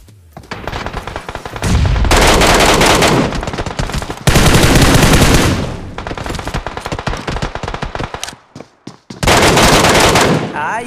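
Automatic gunfire in the mobile battle royale game PUBG, with loud sustained bursts of rapid shots separated by short pauses as enemies are taken down.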